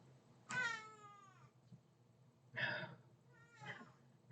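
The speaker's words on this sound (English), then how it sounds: "Apologies if y'all can hear the cat." A cat meows three times close by indoors, a long drawn-out call followed by two shorter ones with brief quiet gaps between, heard alone with no talking.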